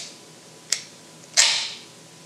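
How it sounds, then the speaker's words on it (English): A can of Tree House Brewing beer cracked open close up, a small click followed by a louder hissing pop of escaping carbonation, both brief and alone in a quiet room. "let's go ahead and open this beer up on camera"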